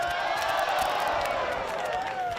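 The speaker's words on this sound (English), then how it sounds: "you can hear the crowd on the eastern side here" Stadium crowd on the eastern side at a junior rugby match between the Junior Wallabies and New Zealand U20s, a distant sustained roar of cheering under play-by-play commentary.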